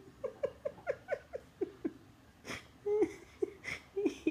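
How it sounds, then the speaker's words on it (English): A cat gives a run of short, soft, rhythmic cries in quick succession, followed by a few longer, louder vocalizations, heard fairly close in a quiet setting. "It's just a cat."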